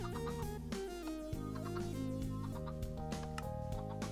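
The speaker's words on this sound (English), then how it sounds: "And there you have one chicken farm." Blocky Minecraft chickens cluck on a small chicken farm. The clucks are soft and scattered beneath steady background music that dominates throughout.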